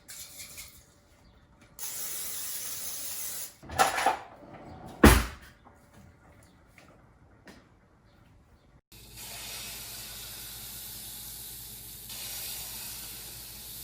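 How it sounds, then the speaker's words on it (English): A couple of short hissing sprays burst out amid quiet kitchen clatter, followed by a low steady sizzle. "I'm gonna use a cooking spray."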